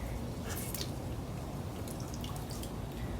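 Water trickles and drips steadily from a squeezed handful of soaked sphagnum moss, a faint continuous splashing close by with no talk.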